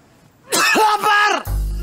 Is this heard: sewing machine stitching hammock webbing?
no